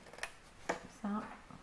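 Scissors snip paper along a marked line for a handmade mini album: a few quiet, close cuts with soft rustling between them.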